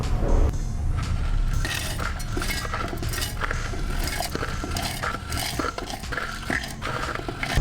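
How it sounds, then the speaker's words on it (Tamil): Roasted spices for idli chili powder tipped into a steel mixer jar, giving scattered clinks, rattles and scraping taps close by, steady throughout with no talk. "இதை நம்ம மிக்சி ஜாரில் சேர்த்துக்கலாம்"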